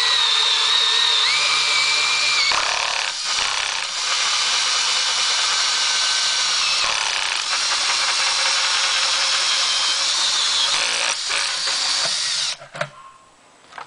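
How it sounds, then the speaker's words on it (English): A cordless drill fitted with a 4-inch hole saw bores through a plastic 5-gallon bucket, a loud, steady whining grind with brief pauses and restarts, ending as the cut breaks through and the motor stops. "It shouldn't take too much to drill through this plastic."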